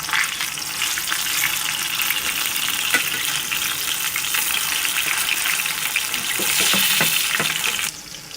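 Chicken seekh kebabs fry in a pan with a continuous bright sizzle of oil, brief scraping and clatter of stirring or turning midway, and the sizzle swelling louder near the end before dropping off.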